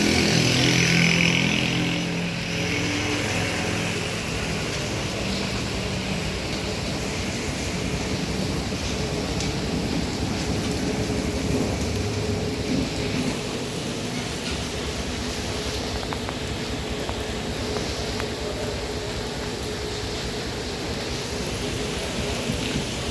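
Heavy rain pours down during a thunderstorm in Quetta, a steady, dense broadband roar that holds unbroken and loud throughout, with no voices.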